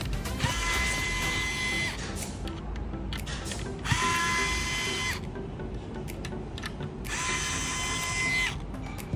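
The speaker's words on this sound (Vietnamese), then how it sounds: "tháo mấy cái vít này luôn" A small electric screwdriver or drill whirs in three sustained bursts, backing screws out of a Zealot S87 Bluetooth speaker, with light clicks and handling noise between runs.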